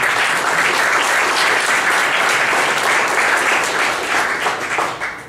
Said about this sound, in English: You guys give us a clap.